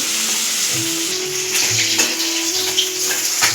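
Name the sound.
puti fish frying in hot oil in a kadai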